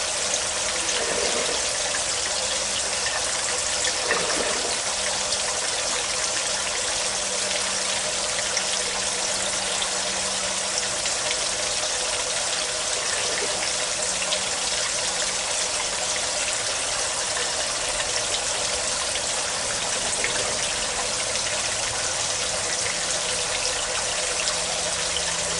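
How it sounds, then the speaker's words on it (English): Water drains steadily out of a pipe in a backyard aquaponics fish setup. It makes a continuous rushing gush with faint gurgles throughout. "Now it's probably just draining out the pipe now,"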